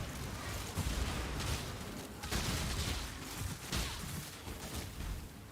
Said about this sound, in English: The corpse explosion.